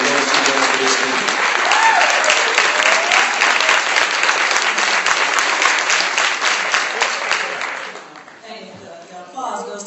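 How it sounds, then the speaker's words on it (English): A crowd at an Education Sunday community gathering applauds Dr. Lane with loud, sustained, dense clapping that swells, then fades after about eight seconds as a voice starts speaking. "let's give her a great big hand"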